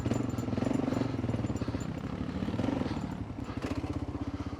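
A Gen 3 Kawasaki KLR 650 motorcycle labors up a rough off-road trail, its single-cylinder engine thumping in a fast, pulsing rhythm close to the microphone, mixed with clatter from the terrain.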